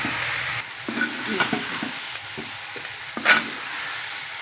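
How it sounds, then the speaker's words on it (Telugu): Green chillies and tomato fry in a hot pan for a brinjal, tomato and coriander roti chutney, giving a steady close sizzle broken by several louder scraping stirs of a spoon, with no talking. "ఇది తీసేసి పచ్చిమిరపకాయని టమాటా వేయిద్దాం"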